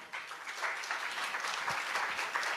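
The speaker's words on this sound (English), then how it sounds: "Please clap hands again for Dodo." An audience applauds at a presentation event. The clapping is steady and moderately soft, with no voices over it.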